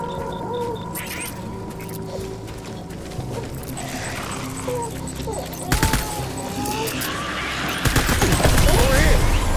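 Bursts of gunfire in the video game Death Stranding, rapid volleys crackling amid battle noise and game music, growing denser and louder toward the end, with shouted voices mixed in.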